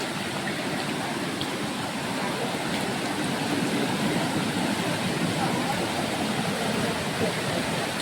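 Steady broadband rush of the Bavali river flowing strongly at Kottiyoor, continuous and fairly loud throughout with no breaks, like water pouring over rocks nearby.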